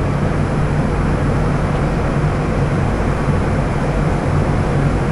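A twin-turbo Ford hot rod engine runs hard under 28 psi of boost while producing around 1,466 horsepower, a loud, dense, unbroken roar that stays steady throughout.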